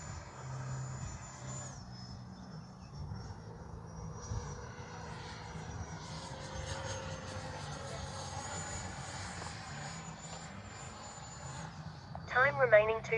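An FMS Integral 80mm RC jet called the Shark flies a touch and go, its steady whine shifting slightly in pitch at a distance while someone talks over it.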